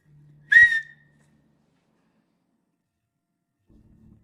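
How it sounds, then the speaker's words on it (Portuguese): A single short whistle inside a car with the windows closed, a clear high tone lasting about half a second, then near silence with faint rumble. "Ouvimos um assobio dentro do carro, com os vidros fechados e tudo"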